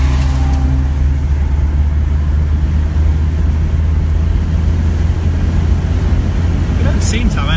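A Citroen C15 camper van accelerating around the Silverstone race track, its engine a steady, loud drone that fills the whole stretch, heard from inside the cabin.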